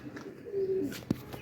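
Pigeons softly cooing and calling nearby, a few short faint coos and chirps in a quiet setting.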